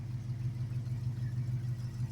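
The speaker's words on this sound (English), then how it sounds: "someone along the line put dual exhaust on it. So that's why you have a nice little lope" A 1969 Plymouth Barracuda convertible with a 318 two-barrel V8 and added dual exhaust idles nearby, a steady low rumble with a gentle rhythmic lope and no talk over it.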